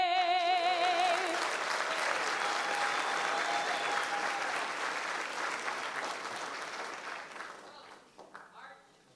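A crowd at a 2024 sports awards ceremony applauds the Treasure Coast High School Junior ROTC, loud and dense at first, then gradually thinning and fading as a voice speaks over the tail.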